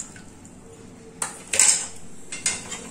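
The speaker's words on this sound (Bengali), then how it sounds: "এখন দুধটাকে আমি দিয়ে দিচ্ছি।" Warmed milk goes into a kadai holding sugar syrup for nikuti payesh, heard as a few light metallic clinks and scrapes of utensils against the pan over a quiet background.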